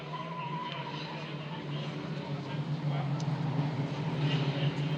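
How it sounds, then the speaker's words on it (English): Race cars circling at Bovingdon Raceway in 2005, with a steady engine roar and tyre noise that builds slightly over several seconds beneath a commentator's voice. "and clears the way, in fact, for Sam Holland to come through on the inside of a couple of these cars now."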